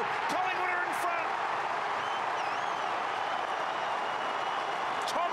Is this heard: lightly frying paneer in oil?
no